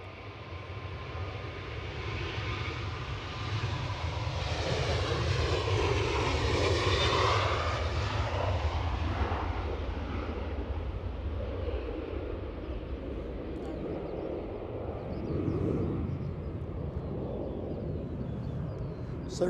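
An airliner's jet engines roar at Edinburgh airport on a Sunday evening, a loud rising and falling rush that peaks midway as the plane passes, then fades to a steady distant rumble.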